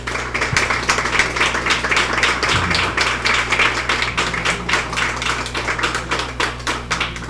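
Steady crowd applause at an evening conference, a continuous patter of many hands clapping for several seconds with a low electrical hum underneath.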